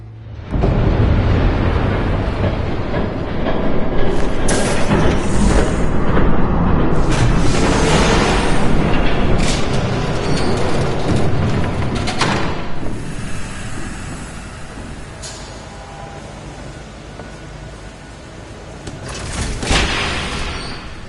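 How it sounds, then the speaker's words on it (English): A train rushes past in the Telltale Batman video game, a loud, dense roar with rumbling and clattering bursts that holds strong for most of the stretch, then eases and surges briefly again near the end. "There's a train coming."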